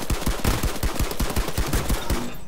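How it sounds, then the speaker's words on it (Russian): Rapid bursts of automatic gunfire in the Fortnite video game, a steady run of loud, close shots in quick rhythm lasting a couple of seconds before cutting off. "Оказывается, это в меня стреляли."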